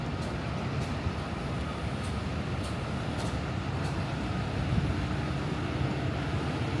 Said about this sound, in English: And now we're at the 1 train station